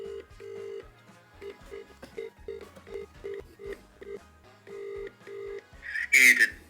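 A phone dials out with a rapid series of short, evenly spaced keypad tones, followed by a brief burst of louder sound at the end.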